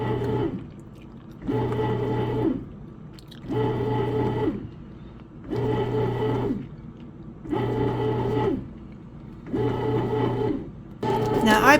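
A home bread machine kneads dough after being started, its motor whirring in steady bursts of about a second, each followed by a short pause, repeating evenly throughout at a moderate, close level.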